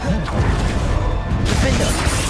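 Confringo fire blast cast in Hogwarts Legacy, a loud crackling magical burst that swells and rolls through the clip over a dense game mix, with a brighter hissing surge near the end.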